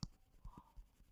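Marker strokes on a board during an English grammar lesson about articles, a few soft taps and scratches close by, quiet and brief.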